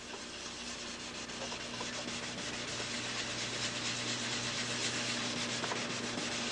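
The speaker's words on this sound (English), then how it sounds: "just block sanding in that body filler" Block sanding body filler with 600-grit sandpaper in a 1993 body shop, a steady rubbing rasp of strokes that carries on continuously over a low background hum.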